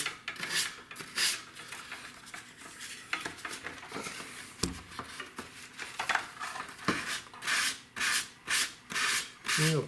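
Sandpaper rubbed over a surface while preparing a model aircraft covering of tissue and dope, heard as repeated rasping strokes in a steady rhythm, close and fairly loud, growing into evenly spaced back-and-forth passes toward the end.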